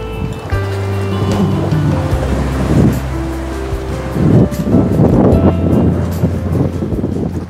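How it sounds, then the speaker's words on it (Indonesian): Gentle sea waves off Maratua island near Derawan, heard from a seaside villa, wash in as soft, rolling surges over a constant roar of wind buffeting the microphone, with no one speaking. "menikmati pemandangan laut yang luas serta suara ombak yang lembut"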